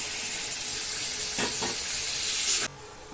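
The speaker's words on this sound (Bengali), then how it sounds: "এখন মাংসগুলো দিয়ে দেব।" Mutton pieces are added to spices fried in oil in a pot for curry, producing a loud continuous hissing sizzle that swells briefly before cutting off abruptly.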